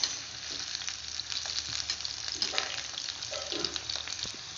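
Bitter gourd pakoda deep-fries in hot oil, a dense bright crackling sizzle that runs continuously at close range, with a few soft knocks.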